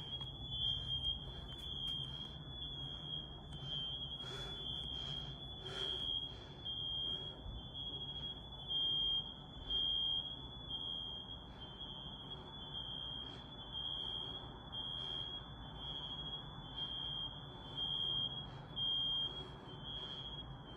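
Smoke alarm set off by burnt food in a house, a loud continuous high-pitched shriek that sounds steadily throughout with small pulses and faint background rustle, no talking.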